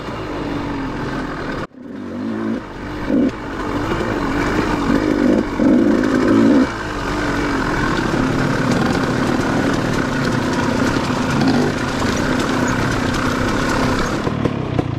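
A Beta XTrainer dirt bike engine runs steadily and close by at Thomaston Dam, a loud, constant drone that drops out briefly near the start, then holds until the end.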